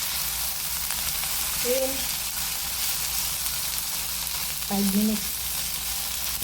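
String beans sizzling steadily in a pan while pinakbet cooks, a constant frying hiss throughout, with a voice speaking briefly twice over it.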